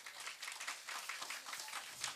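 A concert audience at a stage music show gives a tribute to actor Sivaji Ganesan with dense, continuous clapping, heard faint and somewhat distant for about two seconds.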